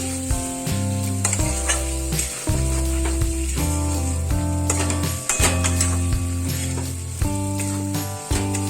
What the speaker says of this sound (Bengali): এটাকে খুব ভালো করে একটু মিশিয়ে নেবো মশলার সঙ্গে